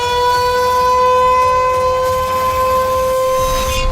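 A civil defense siren wails steadily for the whole stretch, loud and close, its tone holding level without pause.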